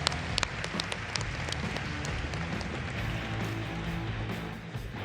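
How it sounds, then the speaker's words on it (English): Audience applause at the Collision 2022 tech conference, a steady wash of many hands clapping with a few crisp individual claps standing out early, fairly loud and unbroken. "Give a round of applause."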